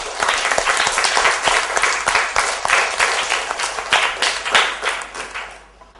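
Classroom of schoolchildren clapping together for fellow students after a storytelling lesson, steady dense applause that tapers off toward the end.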